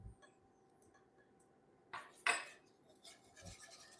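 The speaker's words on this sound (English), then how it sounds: "We're gonna whisk it in." Whisk clinking against a pot while cinnamon is stirred into turmeric golden milk, a few faint scrapes followed by two brief sharper metallic clinks, quiet and close.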